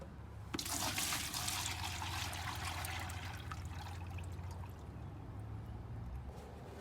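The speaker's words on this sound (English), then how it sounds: "we're going to pour it all in this bucket, and then pour some of this in, up to 400 ml" Liquid poured into a bucket, a steady broadband splashing and trickling stream that starts abruptly after a brief pause and continues close and fairly loud throughout, easing slightly toward the end.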